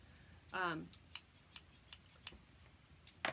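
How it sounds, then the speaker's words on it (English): A series of sharp scissor snips, about six crisp cuts in a steady rhythm, close and clear, following a brief voiced sound at the start. "the best scissors I've ever owned."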